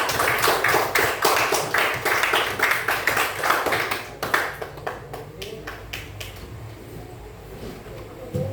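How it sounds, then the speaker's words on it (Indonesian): Students in a classroom applaud a presenting group in a physics lesson on Archimedes' law, rhythmic unison clapping close by that slows and thins out into scattered claps toward the end. "Beri tepuk tangan untuk kelompok 2"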